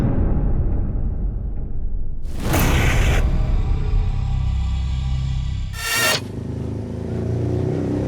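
A motorcycle engine roars and revs close by, with two sharp bursts of acceleration breaking through the steady rumble.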